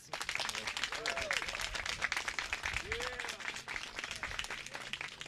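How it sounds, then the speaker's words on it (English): Outdoor crowd claps steadily for Governor Pritzker at a park and creek restoration ribbon cutting, dense even applause throughout at moderate distance, with a couple of brief gliding whistles rising over it. "Everyone, please give Governor Pritzker a grand round of applause"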